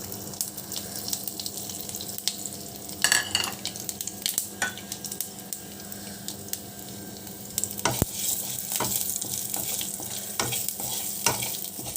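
Bay leaf, five-spice, fennel seeds and dried chili sizzle in a small amount of hot oil, a steady low crackle broken by sharper pops and occasional stirring clinks, close and continuous with no talking.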